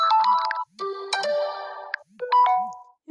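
A ringtone from an Honor 90 Lite phone plays alone: bright, clear synthetic tones in short repeating melodic phrases, split by brief pauses.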